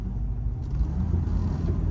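A 1973 Mercedes-Benz 280SE 4.5 in original condition pulls away under acceleration, heard from inside the quiet cabin as a low, smooth engine rumble with steady road noise.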